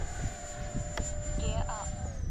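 An FMS Futura V3 RC model jet, a Tomahawk, flies overhead, giving a thin steady whine with a high sustained tone that drops slightly at the end, and brief tonal chirps mixed in.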